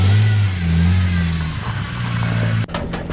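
A Nissan 350Z drift car engine runs close by with a steady, loud low drone that shifts in pitch, then cuts off sharply near the end into a brief burst of clatter.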